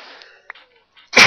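After a faint chirpy lead-in, a single sharp burst of breath erupts at the end, loud and close.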